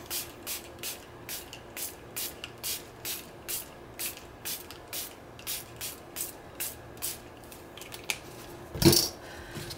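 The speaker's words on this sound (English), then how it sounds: "I'm going to spray with some of my spray again." A spray bottle sprays paper with a quick series of short, crisp hissing squirts at a steady rhythm, followed by one louder burst near the end.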